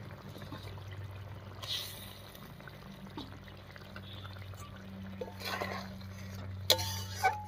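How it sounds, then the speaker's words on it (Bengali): Koi fish go into a simmering curry in a pan and are stirred, giving faint wet splashes, a low bubbling sizzle and a few sharp clinks of the utensil against the pan near the end. "মাছগুলো দিয়ে একটু নাড়িয়ে নিলাম।"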